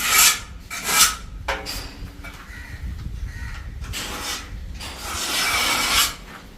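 A tool scrapes a straight marking line along a surface on a work site, producing loud, close rasping strokes in short bursts and then one longer drawn-out scratch.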